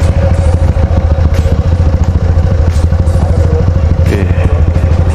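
A motorcycle engine runs loud and close with a steady, throbbing idle and mechanical clatter while the bike is being parked, continuous throughout with no break.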